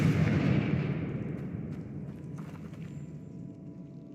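A Confringo spell blast in Hogwarts Legacy erupts with a loud, deep booming explosion that rumbles and slowly fades away into quieter debris over a few seconds.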